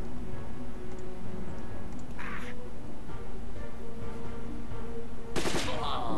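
Gunfire in the tactical game Silent Storm, rapid shots over a busy, droning background with a short burst partway through and a louder, sharper volley near the end.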